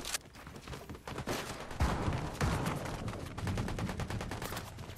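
Gunfire in the Fortnite video game, including sniper rifle fire, crackles in dense repeated bursts and sharp cracks throughout, a busy mid-distance barrage with no clear talk.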